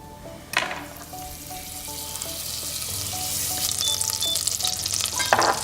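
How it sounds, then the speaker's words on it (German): Butter melting in a pan for a sauce, a bright sizzle that swells and grows louder across the clip, with faint clinks and no voices. "Für die Sauce schmelze ich Butter."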